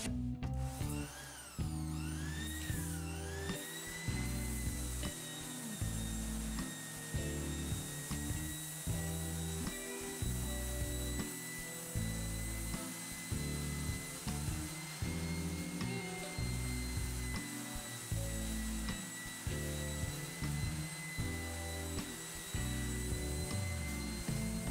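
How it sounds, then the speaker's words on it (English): An electric sander with a 220 grit disc grinds across wood on a workbench, a loud continuous whine with short pauses and pitch shifts as pressure changes. "I'm going to use a 220 grit disc on this sander."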